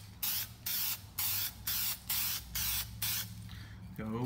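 An aerosol spray paint can hisses in short repeated bursts onto a Mustang GT grille, about eight sprays in a steady rhythm with brief gaps, close and fairly loud.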